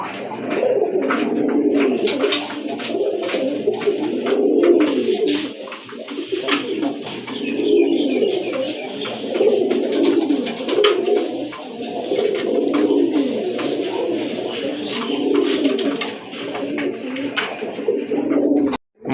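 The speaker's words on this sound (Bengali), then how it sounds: "মাশাআল্লাহ, এক জোড়া কবুতর দেখতে পাচ্ছেন এখানে।" A pair of Rajgolla racer pigeons coo continuously up close, their low rolling calls repeating in overlapping waves, with light rustling and clicks and no talk.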